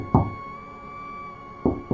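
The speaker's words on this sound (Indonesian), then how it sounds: "Suara pintu utama rumah yang terdengar digedor oleh seseorang." Someone pounds on the main door of a house at night: one heavy thud, a pause filled with a steady hum, then two more hard knocks in close succession, near and loud.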